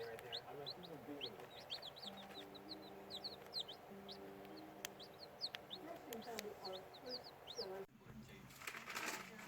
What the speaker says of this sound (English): Well, all the chicks came in.